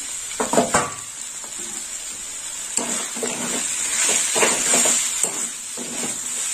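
Sliced ridge gourd (chichinga) fries in a pan with a steady close sizzle, punctuated by repeated scraping and clinking strokes of a spatula stirring it; no voices.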